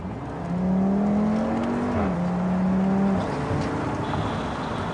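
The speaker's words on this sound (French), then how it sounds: "En premier lieu, c'est le bruit du 5 cylindres." An Audi TT five-cylinder car engine revs up, holds a steady rising drone, then dips and settles back into a sustained hum.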